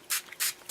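Two short, close hissing bursts of color spray hit a fall journal page, each about a tenth of a second long and separated by a brief pause.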